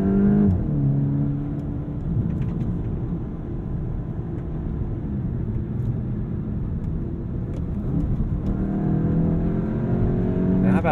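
A 2022 Volkswagen Golf GTI engine drones steadily, then its pitch climbs as it accelerates hard near the end, loud and close throughout.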